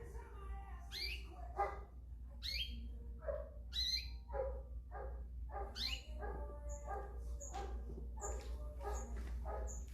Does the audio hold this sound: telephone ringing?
no